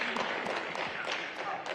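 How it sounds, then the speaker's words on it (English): An audience at an Essence Festival civil rights roundtable claps warmly, a dense, steady patter of many hands filling the hall for a couple of seconds. "I want everyone to give all these wonderful, phenomenal women a round of applause for this excellent planning"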